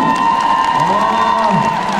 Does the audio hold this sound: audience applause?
yes